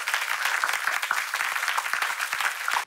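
An audience at a prize ceremony claps in a close, steady burst of applause, many hands beating in a busy continuous patter.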